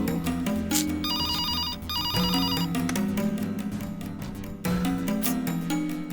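A telephone rings with a repeated electronic ringtone, rising and pausing in bursts over background music, clear and close, with no talking.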